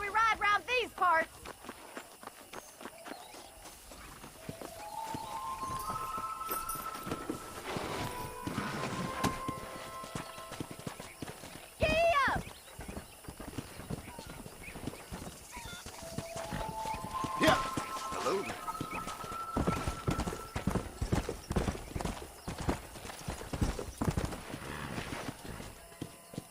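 A horse gallops in Red Dead Redemption with steady hoofbeats under continuous game music, while voices talk over the riding throughout.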